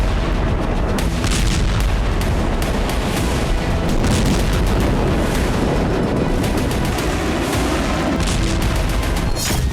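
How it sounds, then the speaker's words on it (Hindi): Dense, continuous rumbling blasts and cracking booms from bombing in Lebanon overlap for the whole stretch, loud and chaotic like heavy bombardment with no voices. "लेबनान धमाकों की गूंज से दहलने लगा है।"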